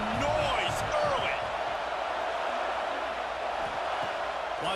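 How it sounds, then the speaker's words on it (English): Stadium crowd roar from EA College Football 26, a dense, steady wash of cheering and whoops that stays loud and unbroken throughout, with faint calls rising out of the mass. "this crowd bringing the energy and noise early"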